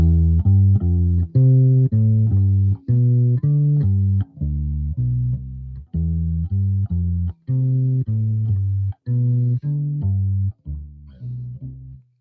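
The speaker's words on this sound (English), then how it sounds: "Let's play this bass line. It sounds like this." A bass guitar plays a bass line of steady, repeated plucked notes in a loose rhythm, deep and close, with short gaps between phrases and no voices.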